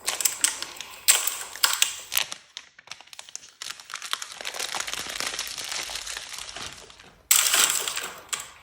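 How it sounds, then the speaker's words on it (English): The box and wrapping of a new Apple iPhone 12 Pro are handled and unwrapped up close: crisp crinkling, tearing and papery rustles in bursts with short pauses, followed by a louder rush of crinkling near the end. "don't you love the sound of unboxing new tech?"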